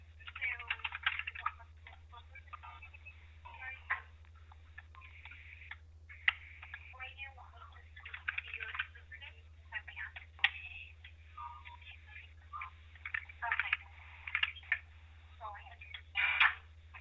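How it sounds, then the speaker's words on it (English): A busy call centre hums in the background with distant staff chatter and faint ticking and phone-like sounds, steady and low over a constant electrical hum. "you can quite clearly hear other staff here in the background. This is a call centre."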